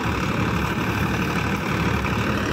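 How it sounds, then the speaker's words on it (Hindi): A modified Ford 3610 tractor engine idles steadily and close by, a continuous low rumble with an even, unbroken drone throughout and no talking. "बिल्कुल साइलेंट ट्रैक्टर है, बहुत प्यारी आवाज़ है ट्रैक्टर की"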